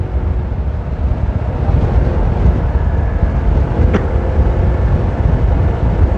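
Steady, loud wind buffeting the microphone on a mountain road in Ilocos Sur, with a constant low rumble and hiss, no voices.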